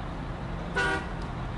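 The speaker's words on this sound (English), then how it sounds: "I honked the horn" A truck horn in the SnowRunner game gives one short, clear honk of about a quarter second over a steady engine rumble.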